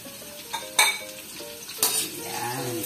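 Onions drop into a pan that already holds tinapa (smoked fish), with metallic clinks and scrapes of a utensil against the pan and a rising sizzle building toward the end.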